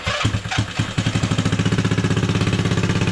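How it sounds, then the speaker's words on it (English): A small ZY6 scooter engine fires up with a few uneven sputters, then settles into a fast, steady, close putter of idling throughout. "So let me turn the switch on, hit the button."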